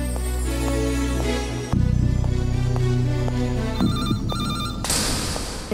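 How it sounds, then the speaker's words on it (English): A telephone bell rings steadily in repeated trills over a low sustained musical background, clear and prominent, ending with a brighter chime. "The telephone by her bedside rang once, then went quiet. Then it rang again."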